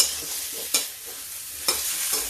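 Vegetables roasting in a pan with a little oil, a soft steady sizzle broken by two sharp scraping strokes of a spatula, close and moderately loud, no talking.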